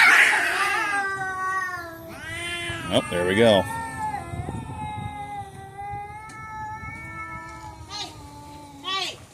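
Two cats meeting for the first time meow and yowl, with drawn-out wavering cries and short complaining calls both up close and further off, while a person talks briefly over them.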